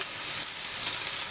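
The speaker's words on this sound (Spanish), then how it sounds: "Aquí hemos puesto ya el aceite, vamos a poner lo que es la cebolla picadita, muy picadita," Finely chopped onion dropped into hot oil for carrot croquettes, giving a dense, even sizzle that stays steady and close throughout the short moment.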